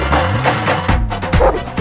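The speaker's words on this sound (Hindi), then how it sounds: "और अगर ना माने तो इन पर कुत्ता छोड़ दो" A dog barks loudly and close in a few rough, quick bursts amid other clattering noise.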